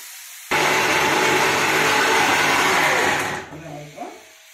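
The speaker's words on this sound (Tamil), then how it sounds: "மிக்சியில் போட்டு கிரைண்ட் பண்ணிக்கலாம்." A mixer grinder whirs loudly and steadily as it grinds fried pirandai and chana dal for chutney, then winds down and stops with a few rattling clatters.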